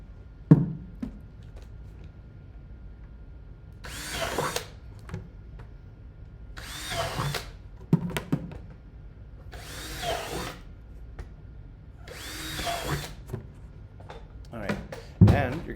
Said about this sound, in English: So we'll drill those out right now.